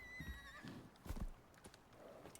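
A horse in the survival video game Icarus neighs in a lively whinny, with clip-clop hoof steps mixed in, moderately close and alone without speech.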